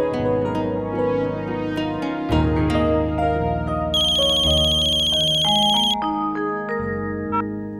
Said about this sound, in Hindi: अरे तुम मेरा फोन क्यों नहीं उठा रही हो?